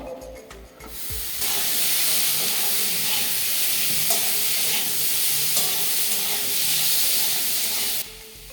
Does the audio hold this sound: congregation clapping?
no